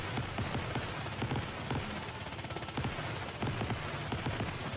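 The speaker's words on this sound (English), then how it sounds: "Get the shotguns out!" Rapid shotgun fire in the game Goddess of Victory: NIKKE, a dense run of loud repeated blasts and impacts filling the whole stretch with no talk.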